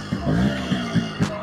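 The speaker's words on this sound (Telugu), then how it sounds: "బైక్ ఇది కూడా ఒకసారి బైక్ ఇది కూడా వినిపిస్తా మీకు" A Yamaha RX100 two-stroke motorcycle engine being restored revs in short repeated bursts, loud and close, with rough throttle blips about every quarter second and no talk over it.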